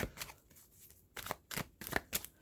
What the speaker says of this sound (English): during the pre shuffle, I got a lot of tens popping out